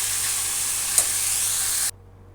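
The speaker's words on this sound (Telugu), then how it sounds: "ఇప్పుడు క్యాప్సికమ్ వేసుకుని బాగా కలుపుకుందాం." Capsicum sizzles and hisses loudly as it is stirred in hot oil in a pan, a bright continuous frying sound with a small clink midway before cutting off abruptly.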